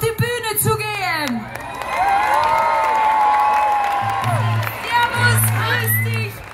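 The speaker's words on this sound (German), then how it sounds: "die jetzt einen riesengroßen Applaus von euch bekommen für den Mut" Audience at an outdoor Schlager concert in a park cheers, whoops and applauds children going on stage, with loud crowd noise rising and falling under an amplified voice.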